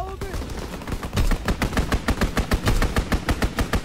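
Rapid, loud automatic gunfire in Call of Duty WWII, a steady string of sharp shots rattling off in quick rhythm after a few scattered opening bursts.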